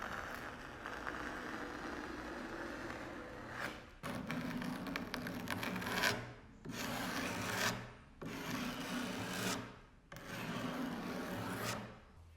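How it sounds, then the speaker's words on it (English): A card scraper rasps along plywood edges in repeated strokes, about six rhythmic scraping passes with short pauses between, close and alone. "just give it a quick few licks with the card scraper, and that cleaned up the edges really nicely"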